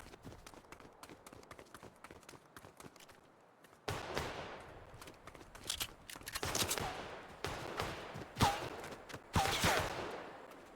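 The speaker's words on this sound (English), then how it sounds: "Who's shooting at me?" Gunfire in Fortnite, scattered shots at first and then a denser volley of loud cracks and bursts arriving after a quiet stretch, with sharp impacts spiking irregularly near the end.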